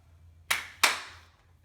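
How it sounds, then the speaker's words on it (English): Two sharp hand claps ring out close by, about a third of a second apart, with a short ringing decay after each, meant to trigger a clapper light switch. "Can you clap for me?"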